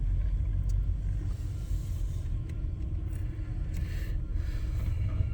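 A truck carrying a load of scrap tin rumbles off a scrapyard scale, a steady low engine drone close by with faint clanks above it, and no talking.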